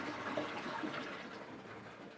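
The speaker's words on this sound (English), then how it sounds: "I basically just held down on this flush lever until I saw no more water draining" A toilet tank draining with the flush lever held down and the water supply shut off, a quiet, steady rush of running water that holds even for a couple of seconds with no refill.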